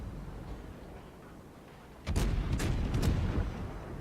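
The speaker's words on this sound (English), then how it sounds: "Shoots me again with all his guns." Warship guns firing in a naval video game: after a quiet stretch, a cluster of loud, booming salvos breaks out in quick succession, sharp cracks over a heavy rumbling tail.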